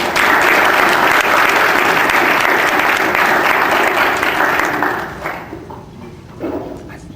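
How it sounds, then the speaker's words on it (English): An audience at an oratorical tournament's final round claps loudly for a speaker in a sustained burst of applause that fades toward the end. "let's give a warm round of applause to Sam Sparrow."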